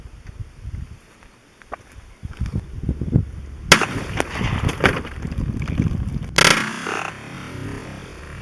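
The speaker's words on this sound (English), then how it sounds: "We'll shoot the steel jacketed round first." A rifle fires steel-jacketed .223 rounds into water bottles, giving two sharp, loud cracks a few seconds apart over faint outdoor background noise, with no talk.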